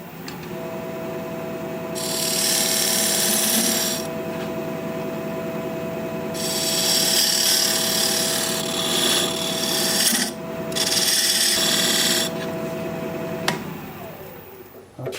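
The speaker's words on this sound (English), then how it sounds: "I'm going to use this diamond point tool to square up the sides of my tenon." A diamond point tool squares the sides of a wood tenon on a lathe, giving a loud, steady scraping rasp in long bursts over the constant hum of the spinning lathe.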